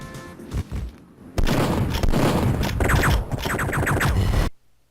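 Gunfire blasting at Santa in the video game Duke Nukem: Nuclear Winter, a dense rapid fusillade of booms and thuds with crashing impacts, loud and continuous before cutting off abruptly.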